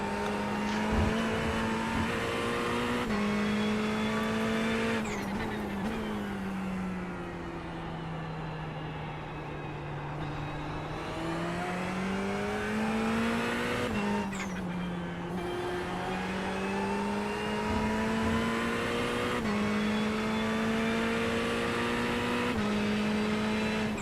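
BMW GT3 race cars lapping Spa in a racing video game, engines droning loud and unbroken as pitch climbs and dips through gear changes, with brief breaks where revs drop, no voices.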